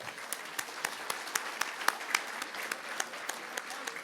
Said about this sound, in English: So round of applause for the bowling club.